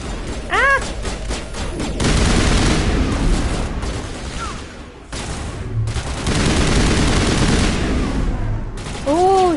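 Gunfire in a Mass Effect firefight against mercenaries: loud rapid bursts and rattling volleys alongside booming impacts, with brief pauses and a few electronic chirps between the exchanges.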